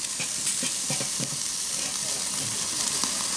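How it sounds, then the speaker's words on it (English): Tri tip steaks searing on a grill grate over charcoal, with a steady close sizzle and hiss and a few soft clunks and scrapes from the grate. "We'll just like let these sear for around 90 seconds on each side."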